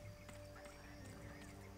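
Horse neighing in the Western video game Gun, steady and moderately loud over an ongoing game soundscape with low tonal music.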